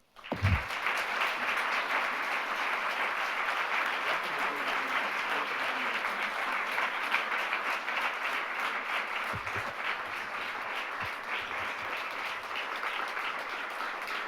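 Audience applause welcomes Gina McCarthy at Bowdoin, a dense and steady clapping from a large crowd that starts abruptly and holds at an even level for about fourteen seconds without talk.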